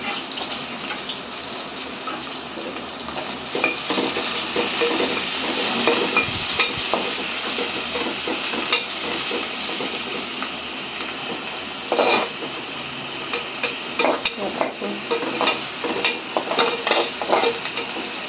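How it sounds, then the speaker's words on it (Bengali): Onions sizzle in hot oil for a thin rohu fish and potato curry, a steady close frying hiss broken by the scraping and knocking of a spatula stirring the pan. "তেল গরম করে পেঁয়াজ দিয়ে দিলাম"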